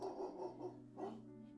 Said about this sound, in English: He hears faintly the sounds of barking and echoes of people yelling in the distance.